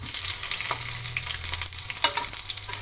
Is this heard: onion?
yes